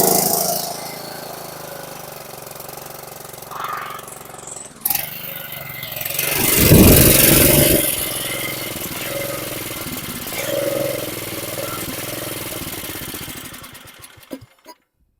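A 2009 Yard-Machines riding mower engine runs steadily at close range, swelling louder midway through before settling back to a rough idle that cuts out near the end.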